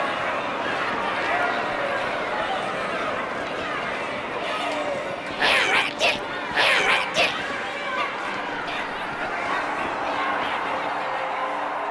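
A crowd murmurs in the background throughout a Halo 2 cutscene, with a few brief louder bursts of voices rising in the middle.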